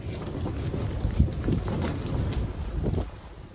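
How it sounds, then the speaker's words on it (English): Wind gusting outdoors on Santorini, a steady low rumble buffeting the microphone with a few soft thuds and knocks, no talking. "A lot of wind here today."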